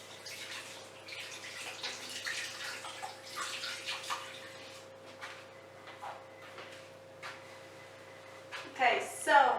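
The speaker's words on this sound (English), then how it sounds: "I will just wash my hands." Hands washed under a running kitchen tap while baking peanut cookies, a steady rush of water with clattering splashes and a louder burst near the end.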